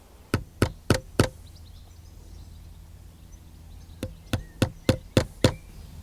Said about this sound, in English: taps of a hammer, just to make sure your drill bit stays in the centre of the hole